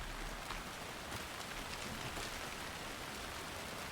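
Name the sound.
rain in the video game Alan Wake 2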